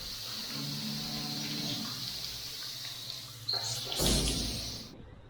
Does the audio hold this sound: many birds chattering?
no